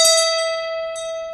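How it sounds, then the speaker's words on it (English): A bell struck once with a hammer gives a clear metallic ring with a sustained tone that slowly decays, then a second lighter strike near the end. "I give this here bell a rap with this here hammer."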